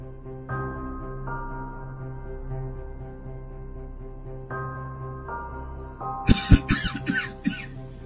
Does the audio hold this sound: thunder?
no